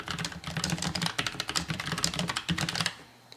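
Fast, continuous clacking of keys on a Logitech MX Mechanical tactile quiet keyboard, close and crisp, with a steady stream of keystrokes that stops near the end.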